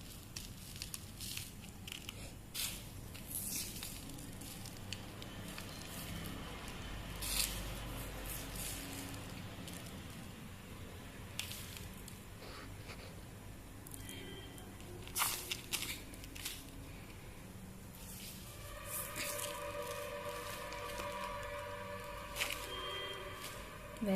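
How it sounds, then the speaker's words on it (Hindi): Sand is poured and pressed into a pot around a gold moss sedum, giving soft gritty crunching, rustling and crackling close by, quiet and irregular with scattered sharper scrapes and no talking. "मैंने इसे इसमें रख दिया और चारों तरफ से मैं इसमें ये रेत फिल करूँगी।"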